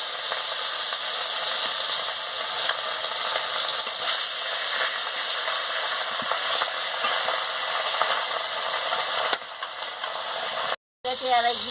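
Katla fish frying in hot oil in a pan, a dense, steady crackling sizzle that carries evenly throughout, with a brief cut near the end.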